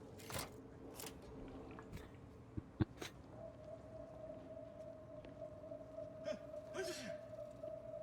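A single short sneeze from a character in the sci-fi video game The Outer Worlds 2, breaking briefly through a steady electronic hum and low game ambience.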